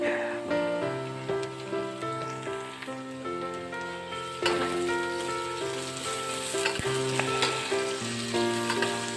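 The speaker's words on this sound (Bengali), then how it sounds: "প্রথমে আলুগুলোকে মোটামুটি সেভেন্টি পার্সেন্ট যখন ভাজা হয়ে আসবে এই পর্যায়ে আমরা দিয়ে দিলাম পেঁয়াজ" Sliced onions sizzle with partly fried potatoes in hot oil, a steady crackling fry heard close, with music playing over it.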